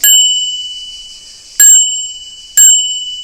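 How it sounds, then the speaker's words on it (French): Three bright rings of a bicycle bell on a Grand Canyon 6.9 AL 29-inch mountain bike, each a sharp ding left to ring out, loud and close with nothing else heard. "vous pouvez remettre cette fabuleuse sonnette sur le VTT d'un de vos enfants"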